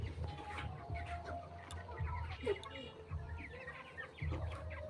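Chickens on a farm cluck continuously at moderate distance, a busy overlapping chorus of fowl with steady background noise.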